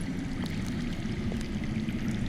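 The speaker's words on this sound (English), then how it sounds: "I hear water. From underground." Steady rushing water flows underground in a Game of Thrones game scene, a continuous low gurgling stream heard alone and fairly close.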